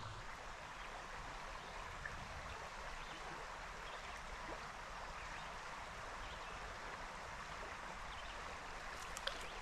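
Trout stream flowing over rocks, a steady broadband rush and trickle of water heard up close and continuous, with no voices.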